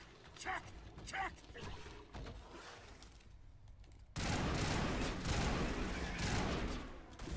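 Gunfire and a grenade blast ring out in the Mass Effect video game, with a few scattered shots first, then a sudden loud explosion that settles into sustained, noisy rumbling.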